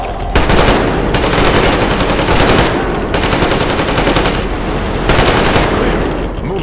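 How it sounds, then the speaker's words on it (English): Covering gunfire in the video game Metro Exodus, long loud bursts of automatic fire pounding away close by, broken by short pauses, with several weapons firing in steady rapid rhythm. "Covering fire for the Colonel."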